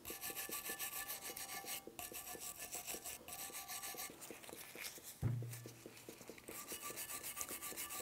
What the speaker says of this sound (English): I use a brass or a metal brush. And I want to get in there just like that and make sure that there's no rust underneath